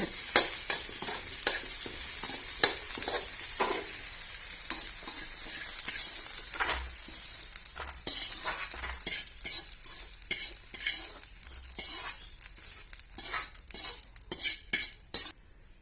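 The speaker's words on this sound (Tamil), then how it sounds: "நல்லா பழுக்க வதக்கணும் வெங்காயம் பூண்டு கருவேப்பிலை நல்லா வதக்கியாச்சு" Onion, garlic and curry leaves sauté in a pan, a continuous bright sizzle with frequent spoon scrapes and clinks against the metal, growing more rhythmic toward the end.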